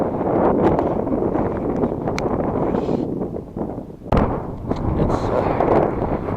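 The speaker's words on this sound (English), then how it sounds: "That wind is picking up, and I'm in the open here more than I want to be." Strong winter wind gusting across an open, snowy ice-fishing spot, roaring and buffeting hard into the microphone with loud rumbling bursts, close and continuous.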